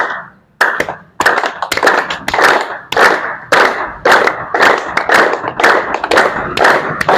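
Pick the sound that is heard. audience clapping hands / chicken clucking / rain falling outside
audience clapping hands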